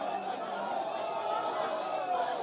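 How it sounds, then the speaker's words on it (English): A crowd of supporters cheers and chatters steadily as powder is poured over a man they have come to support, a dense, continuous wash of many voices at moderate volume with no single voice standing out. "they are pouring the powder on him and cheering him on"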